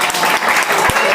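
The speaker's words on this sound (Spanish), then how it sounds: "Un aplauso." A class audience bursts into brief, loud applause, a dense clatter of clapping at close range.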